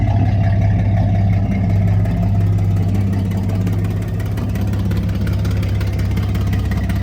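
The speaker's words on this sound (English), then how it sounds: "So this is how we're sounding right now, just idling." A Chevrolet Monte Carlo's V6 engine idles close by with a deep, steady low rumble, its even throb continuing unbroken throughout.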